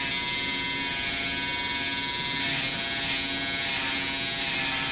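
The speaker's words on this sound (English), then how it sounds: "just take the trimmer and just place it right into the hair there" An electric hair trimmer buzzes steadily as it cuts hair, a constant close, high-pitched hum without pause.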